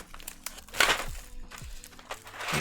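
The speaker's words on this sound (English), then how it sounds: "we've got keycaps falling all over here" Plastic keycaps spill from a flipped mechanical keyboard during a HiexaKey build, clattering and rattling in several quick, close crinkly bursts, with a louder cluster near the middle and more near the end.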